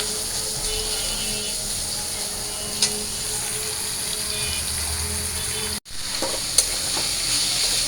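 Malabar spinach (pui shak) fries in a pan with a steady, close sizzling hiss, broken by a brief gap and a couple of light clinks of stirring.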